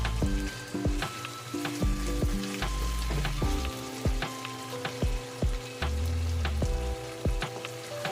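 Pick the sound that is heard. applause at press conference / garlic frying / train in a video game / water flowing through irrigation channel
garlic frying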